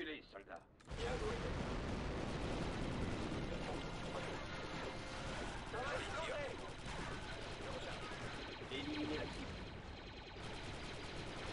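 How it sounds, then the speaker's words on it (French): Grenade blast and gunfire in the Star Wars Republic Commando video game during the Battle of Geonosis, a dense, continuous wash of shots, impacts and mechanical clatter with a voice talking over it. "Ah, ils ont balancé une grenade."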